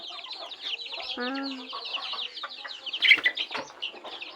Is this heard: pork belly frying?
no